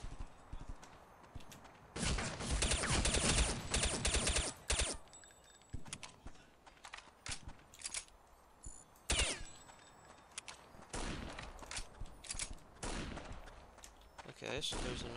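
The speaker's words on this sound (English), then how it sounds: "is that a machine gun?" Machine gun fire in the video game Counter-Strike: Condition Zero comes as loud, rapid bursts of gunshots separated by quieter gaps, with a voice talking at times.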